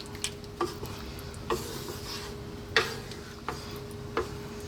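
Cream, cheese and tomato sauce stirred in a pan for baked vegetable pasta, a soft steady simmer with a few light clicks of the spoon against the pan at irregular intervals, close and quiet.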